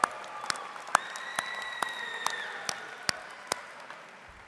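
Light, scattered applause for graduating University of Michigan athletes at a graduation ceremony, a few distinct sharp claps standing out over a faint, thin patter, with sustained tones running beneath.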